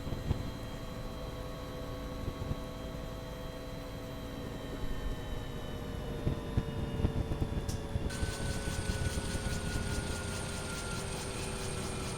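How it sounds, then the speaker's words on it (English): A steady Bell UH-1 Huey helicopter engine drone with rotor whine in X-Plane 11, its tones slowly falling as the machine spins down; a high electronic tone cuts in near the end. "Maybe we'll switch off the helicopter,"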